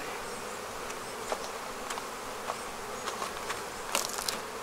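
Honeybee foragers buzz steadily around a beehive during a queen transfer, a continuous faint insect drone with brief louder passes of individual bees flying close.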